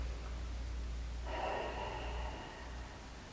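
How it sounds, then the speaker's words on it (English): One breath during a yoga kriya breathing exercise, a soft, airy rush of air lasting about a second against a quiet background hum. "So I would normally inhale, retain, and exhale, stretch it out."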